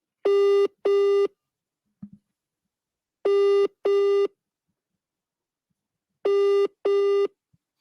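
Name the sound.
telephone ringing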